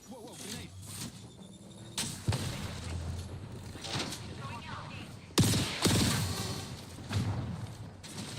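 In the Apex Legends video game, bursts of gunfire and sharp blasts from a grenade explosion crack in quick succession, loud and close, with mid-level thuds between the shots.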